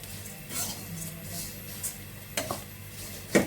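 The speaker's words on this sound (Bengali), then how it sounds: "ছোলা ভাজাটা হয়ে গেছে" Chickpeas fry in a pan while being stirred, giving a faint sizzle with scattered scrapes and clinks of a utensil against the pan, close by and without talk.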